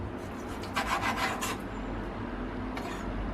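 A knife slices beef into very thin strips on a cutting board for a Chinese Philly cheesesteak, making a close, quick run of rasping strokes followed by a softer lone stroke, with no talking.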